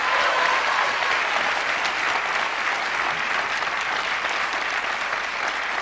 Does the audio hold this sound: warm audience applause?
yes